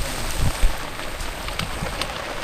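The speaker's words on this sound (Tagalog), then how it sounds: "Lakas ng ulan." Heavy rain pours down outdoors on a rice farm, a dense steady hiss with a few louder thumps of drops close by.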